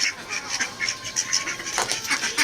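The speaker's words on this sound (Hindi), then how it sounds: "ये मेरे पीछे बतखें पड़ गई हैं कि हमें डालो" Ducks crowding close and quacking for food while liver is handed out to a pet bird, a rapid run of loud, overlapping quacks with short gaps, fairly near.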